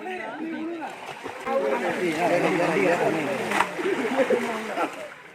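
Steady splashing and rushing water with footsteps wading through a warm mountain stream on the Velliangiri Hills trek, while voices talk over it throughout.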